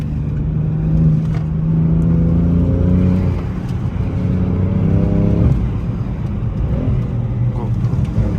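A BMW M car accelerates on the Nürburgring circuit, its engine note climbing loudly through the revs in sustained pulls with a shift between them, close and continuous.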